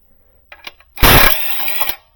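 Socket wrench working the nuts off the upper half of a Toyota intake, a few soft clicks followed by a close, loud rapid ratcheting burst lasting about a second.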